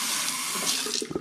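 Cold tap water pours steadily from a faucet into a small plastic water test container, a loud continuous rushing splash up close with no talking.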